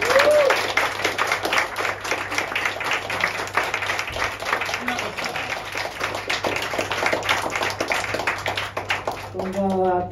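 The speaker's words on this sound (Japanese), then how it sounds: "大きな拍手で迎えてください。" A concert audience gives a guest singer a long, warm round of applause: many hands clapping in a thick, sustained wash for about ten seconds, with a voice speaking over it and a brief tonal sound near the end.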